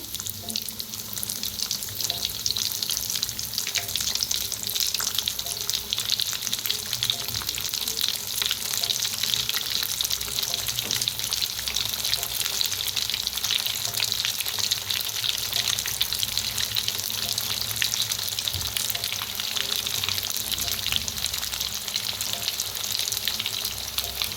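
Bread balls deep frying in a pan of hot oil, a steady dense sizzle and crackle that holds evenly throughout with no voices.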